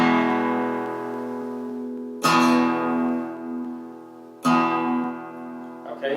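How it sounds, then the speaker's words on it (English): Strums across only the lowest strings of a guitar ring out alone: two full, deep strokes that each sustain for a couple of seconds, with a softer touch at the very end. "And what we're doing is playing the lowest sounding notes,"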